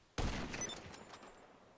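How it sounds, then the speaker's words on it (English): A single loud gunshot in the GTA video game, a sharp close crack followed by a short fading echo tail. "Warning shot."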